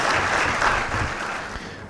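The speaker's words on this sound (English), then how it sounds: "Let's give a round of applause to these ones too." An audience at a social good summit in Ghana claps for the event's sponsors, a short dense burst of applause heard fairly close and loud throughout.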